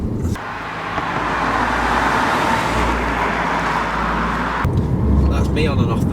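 A Volkswagen car's engine drones steadily as the driver eases on and off the throttle, with a constant gearbox whine heard from inside the cabin and a drop in level near the end.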